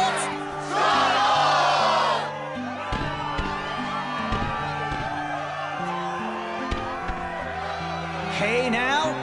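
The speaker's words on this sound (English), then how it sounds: "the crowd is fired up" Crowd cheering in the Kingdom Hearts 2 video game, a loud roar of whoops and shouts for about a second and a half, then a voice speaking over music.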